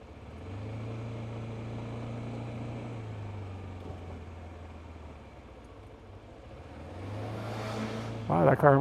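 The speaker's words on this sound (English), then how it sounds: "Wow, that car almost hit me." A car passes close by on a road, its engine hum building, sustaining steadily, fading briefly, then swelling again as another vehicle approaches, ending with louder clattering noise.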